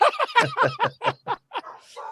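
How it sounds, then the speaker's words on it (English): A dog barks about eight times in a quick, loud, close run, heard alone over a football podcast recording. "That was my dog."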